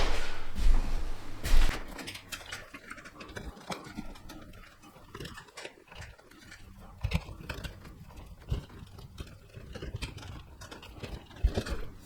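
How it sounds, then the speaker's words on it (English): Door installation in a house being flipped: scattered thumps, knocks and bangs of handling and fitting the door, with irregular impacts and rustling, fairly close and moderately loud. "now I'm ready to install this door."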